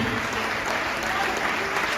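Crowd at a large stage event applauds loudly, a thick continuous wash of clapping from many people with no gaps, filling the hall evenly.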